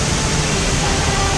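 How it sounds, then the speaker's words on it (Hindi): Steady rushing roar of water at Chunchi Falls, also known as Ganalu Falls, a constant broadband wash heard close and unbroken, with a faint low hum mixed in. "So here are Chunchi Falls."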